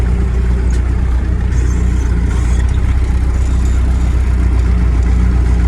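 A close MTZ 892 tractor engine idles steadily while loading organic manure with a Galt loader, a constant low rumbling drone that holds even in loudness without breaks.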